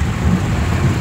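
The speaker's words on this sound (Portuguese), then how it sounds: "Acho que a chuva tá engrossando mais, tá chegando agora aqui, viu?" Heavy rain pouring steadily with a low rumble of thunder, heard continuously and loud from close by, with no talking.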